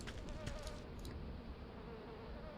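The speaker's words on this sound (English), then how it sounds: "Half the bees escaped." Bees buzzing in A Tale in the Desert as they escape from a cluster of desert apiaries, a steady insect drone that holds level and close throughout, with no voices over it.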